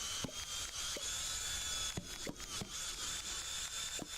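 Wood being sawn in the video game Dinkum, a quiet run of short, separate rasping strokes, about eight of them at an uneven pace, over a steady electronic background hum.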